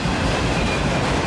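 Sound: autorack freight train passing

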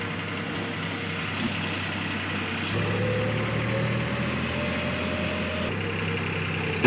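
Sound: tractor engine running straw machine

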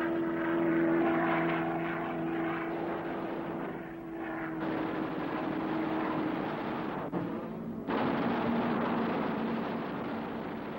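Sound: Lockheed P-38 Lightning twin Allison engines

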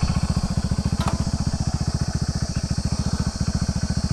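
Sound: Hero HF Deluxe BS6 motorcycle engine running after carburettor fitting

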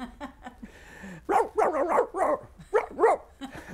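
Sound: man imitating a dog barking

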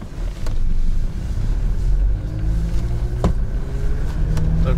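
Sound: Toyota Land Cruiser Prado 120 engine accelerating while driving

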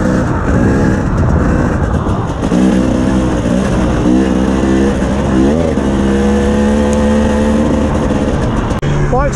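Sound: cold dirt bike engine running, Honda CRF450L or KTM 300 TPI

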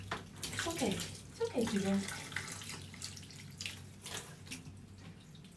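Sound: water rinsing a cat in the bath

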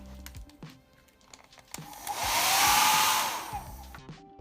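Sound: hair dryer blowing

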